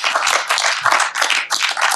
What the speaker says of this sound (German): Dann bitte auch nochmal einen Applaus.